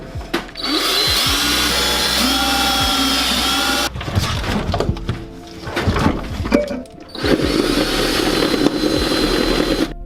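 A power drill bores holes through the firewall of a 1969 Ford Mustang, whining loudly in two long sustained bursts separated by a short pause filled with clattering handling noise.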